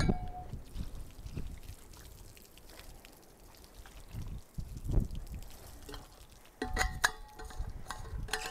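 Water poured and dripping over military radios set on a table, with splashing trickles and drips in uneven bursts, loudest near the end.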